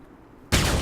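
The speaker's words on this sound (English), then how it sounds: "every time you take a shot with a pistol and don't do anything else, you hear bing, ding, ding, ding" A single loud pistol shot in the video game Alpha Protocol bursts in suddenly after near silence, a sharp broadband blast that rings out to the end.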